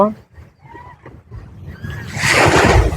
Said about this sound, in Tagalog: Oh, laki ng alon.